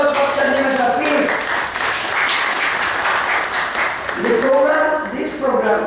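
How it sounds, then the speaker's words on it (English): An audience applauds at a heritage and education event honoring a guest, with clapping continuing under a speaking voice that carries through most of the stretch. "a big applause for Chandra Shah, please"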